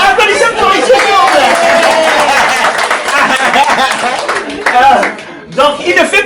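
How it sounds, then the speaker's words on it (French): An audience claps for a man named Richie at a brunch gathering, a dense, close burst of applause mixed with crowd chatter and voices, thinning out briefly near the end. "applaudissez pour Richie"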